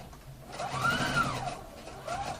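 Sewing machine stitching around a square neckline on a garment, a steady mechanical whir that rises and holds for about two seconds at moderate volume, with no voices.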